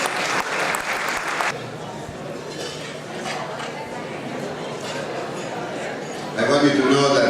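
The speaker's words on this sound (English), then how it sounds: "I ask that we give a round of applause for Carol Brooks." An audience applauds for Carol Brooks at an international expo, a loud burst of clapping at the start that settles into sustained, steady applause and then swells again near the end.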